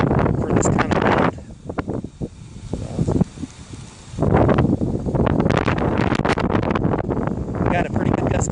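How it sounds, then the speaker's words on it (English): A strong gust of wind from Hurricane Florence roars against the microphone in loud rumbling bursts, easing briefly in the middle before surging back and holding strong to the end, with someone talking over it. "We got a pretty good gust coming through now."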